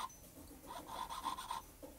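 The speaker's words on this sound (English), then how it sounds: "filing the leftover bit of tubing perfectly square" A hand file rasps across the cut end of leftover metal tubing, squaring it for a locket pill box, in a steady run of close scraping strokes with a short pause and one more stroke near the end.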